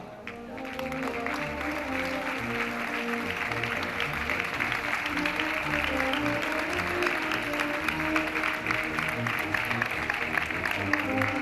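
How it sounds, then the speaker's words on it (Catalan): Sustained crowd applause at a Falla Primitiva presentation event, dense clapping from a large audience that holds steady and loud throughout, with no voices on top. "vos rebem amb el millor dels nostres aplaudiments"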